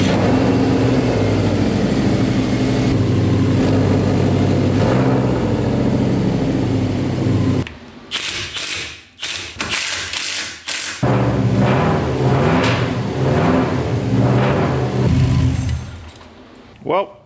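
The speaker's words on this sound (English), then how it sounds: "let's fire it up and see if we still got a really loud exhaust leak" A Subaru engine with an exhaust leak cranks and idles with a loud, rough exhaust rasp, then cuts out briefly before rattling and running again; a person talks over it.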